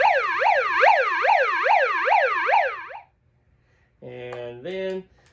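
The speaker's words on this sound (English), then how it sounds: "Remember the megaphone here, and we'll do the little siren first." A rapid, wailing electronic siren warbles steadily for a few seconds, cuts off, then short honking bursts follow after a pause.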